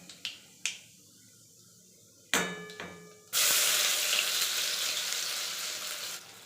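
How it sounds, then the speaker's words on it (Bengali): Pea paste and a few nigella seeds hit hot white oil in a kadai, bursting into a loud, steady, close sizzle after a few light clicks and a brief clatter. "এবার কড়াইতে সাদা তেল আমি গরম করে নিয়েছি, তাতে 2-4টে দেবো আমি কালো জিরে আর দেব কড়াইশুঁটির পেস্টটা।"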